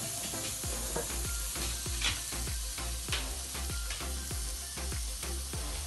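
A burger patty cooking in an electric skillet, a steady soft sizzle under a regular run of low, rhythmic thumps, fairly quiet with no voices.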